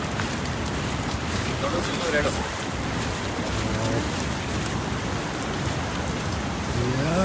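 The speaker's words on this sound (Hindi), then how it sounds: "ये है बारिश देखो" Steady, dense rain hiss fills a forest, constant and fairly loud, with faint voices murmuring underneath.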